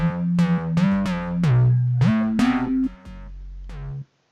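A Nexus bass preset, distortion 5, with portamento set to 1/32 dotted, plays a short hip-hop beat line: punchy, gliding distorted bass notes that slide between pitches, alone and loud, ending with a brief drop to silence.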